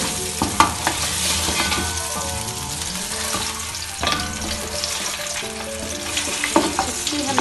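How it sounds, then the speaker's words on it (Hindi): Beef trotters for Lahori paya being stirred and fried in a pot, a loud continuous sizzle broken by scraping spoon knocks against the metal at irregular moments. "इसकी हमने भुनाई करनी है अच्छे तरीके से"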